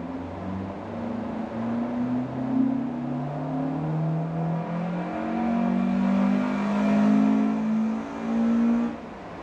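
A Mk1 Ford Escort with an ST170 engine revs hard on a dyno, its steady, loud engine note rising and climbing in pitch through the run, alone without talk.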